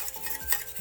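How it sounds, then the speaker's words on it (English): A fork stirring sauce in a pan, with soft scraping strokes and faint sizzling underneath; brief and fairly quiet, with no talking. "Grab yourself a fork and just stir that sauce around."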